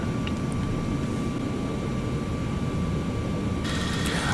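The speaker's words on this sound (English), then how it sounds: "the noise you're hearing, that's a stall test" Stall warning test aboard a Boeing 717 right after the aircraft is powered on: a steady, loud mechanical rumble with faint tones runs the whole time, brightening slightly near the end, with no talking.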